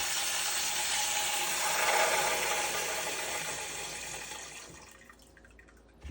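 Water rushes out of an opened earthship water filter housing in a loud, broad hiss that swells, then gradually tapers off, ending with a brief clunk.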